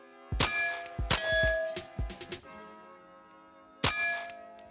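Gunshots striking steel targets from the 10-yard mark at a range: sharp metallic clangs with ringing tails, a quick cluster of hits followed by quieter gaps and one more loud ringing strike.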